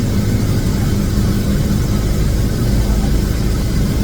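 A small airplane's engine drones steadily inside the cockpit during the turn onto base, just before final approach, a loud, even, low hum with no other sounds over it.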